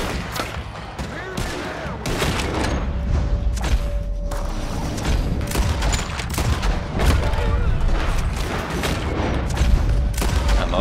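Gunfire from a shootout after a bank robbery at the Lemoyne National Bank in Red Dead Redemption II, with dense rapid volleys of sharp shots cracking continuously throughout, some close and loud, over a steady din of the fight.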